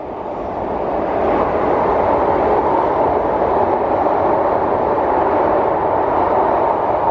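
Loud, steady roar of a train running through a tunnel between Dumbarton and Tweedbank, a dense rumbling wash of noise that swells in the first second and holds constant.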